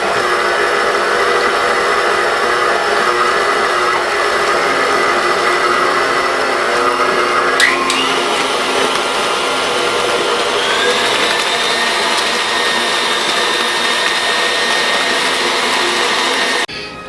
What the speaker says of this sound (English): we raise the bowl back up, we turn it on, and we start to incorporate our bananas